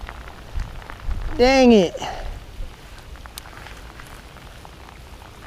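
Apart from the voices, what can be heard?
rain falling on a creek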